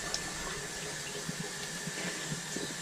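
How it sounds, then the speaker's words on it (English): Clothes are hand-washed under a running tap in a sink, with a steady close rush of water and occasional soft sloshes and splashes, and no talking. "I'm washing my clothes. I wash them in the sink."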